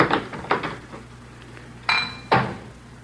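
Dishes and cutlery clatter during cleanup in a radio drama scene, with several close metallic clinks and knocks, then two sharper crashes of crockery near the end.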